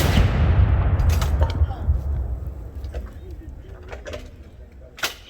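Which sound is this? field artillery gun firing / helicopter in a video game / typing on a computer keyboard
field artillery gun firing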